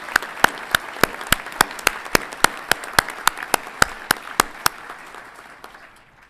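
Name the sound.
audience applause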